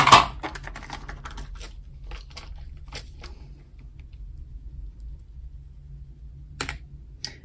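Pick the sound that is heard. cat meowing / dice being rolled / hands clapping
dice being rolled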